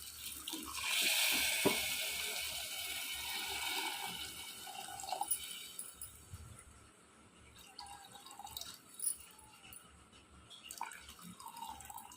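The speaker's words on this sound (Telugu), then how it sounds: "అంటే నేను ఒక 2 గ్లాసెస్ వాటర్ పోసాను" About two glasses of water poured into a cooking pot for boondi curry, a soft running pour with trickles and drips over roughly twelve seconds, fairly faint and with no voices.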